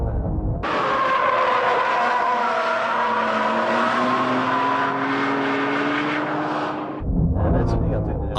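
A Honda NSX-R driven hard through an uphill hairpin on a circuit, its engine holding a loud sustained note with rising harmonics while the tires squeal for about six seconds before the sound cuts off abruptly.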